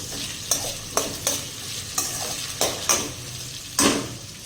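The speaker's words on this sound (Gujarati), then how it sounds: "હવે આપણે તેને મીડિયમ તાપ પર ચડવા દઈશું. આપણે તેને વચ્ચે ચલાવતા રહીશું." A spoon stirs sabudana khichdi sizzling in a pan over medium heat, with about eight sharp scraping strokes against the metal over a steady soft frying hiss, close and without talking.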